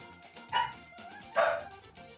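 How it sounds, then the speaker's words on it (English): A dog gives two short, separate barks, moderately close, with nothing else around them. "Sorry if the dogs are loud."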